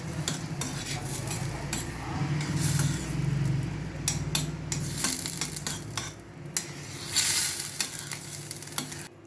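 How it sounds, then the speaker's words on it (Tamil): Butter melts and sizzles in a kadai for garlic butter eggs, a steady frying hiss with scattered clinks of a utensil stirring against the pan, close and moderately loud with no talking. "ஸோ நான் இதில் தேவையான அளவுக்கு பட்டர் போடுறேன்."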